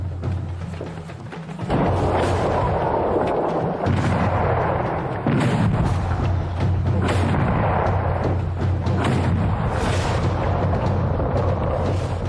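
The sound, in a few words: cannon bombardment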